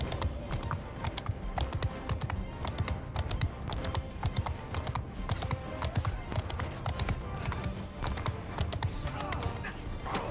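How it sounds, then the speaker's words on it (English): Rapid, rhythmic hoofbeats of a galloping horse in Mount & Blade II: Bannerlord pound continuously, loud and close, with a busy mix of game sounds behind. "Spur that horse."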